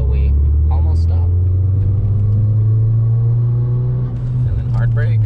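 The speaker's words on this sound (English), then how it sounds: "we're gonna head up to 35 miles an hour and then slam on the brakes until we almost stop" A Ford Focus RS slows under hard braking from about 35 mph, its steady low engine and road rumble droning throughout, with a brief dip near the end as the car nearly stops, and faint speech heard at moments.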